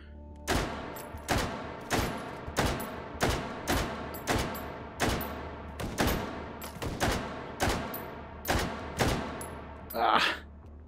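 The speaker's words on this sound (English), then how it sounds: "Know where that shot's coming from." Repeated gunfire in the VR shooter Hot Dogs, Horseshoes & Hand Grenades, roughly a dozen loud, sharp reports spaced about evenly under a second apart, each ringing briefly before the next, with a short rustle near the end.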